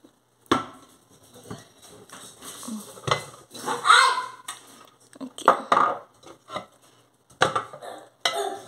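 Metal pressure cooker lid and its pressure pin handled in a home kitchen, giving a run of clinks, knocks and scrapes of metal on metal and hard surfaces, some sharp, some softer, with brief pauses between.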